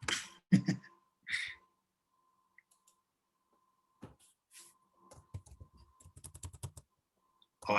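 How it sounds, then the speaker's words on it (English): Computer keyboard heard over an open video-call line during an online lunch talk: scattered clicks at first, then a quick burst of rapid typing near the end, faint and close, with no talk. "Oh, I hear a keyboard now."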